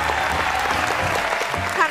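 A studio audience at a Vietnamese dating and matchmaking show breaks into applause, a brief, steady patter of many hands with some voices and chatter mixed underneath.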